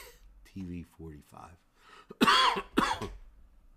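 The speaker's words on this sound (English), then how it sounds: "Allow me as I clear my throat there." A sports broadcaster at a girls' high school softball game coughs and clears their throat several times, loud and close, with some low voiced sounds in between.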